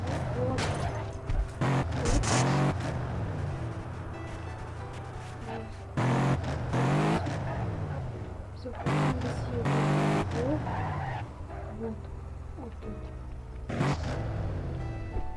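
Car engine and tyre noise from Ukraine GTA gameplay, with bursts of revving and skidding rising and falling across the stretch, mixed under a voice talking throughout.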